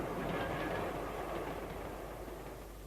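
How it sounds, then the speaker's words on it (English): A train rumbles past with a steady low roar and faint clickety-clack of wheels on rails, moderately distant and fading slightly toward the end. "Here's my train."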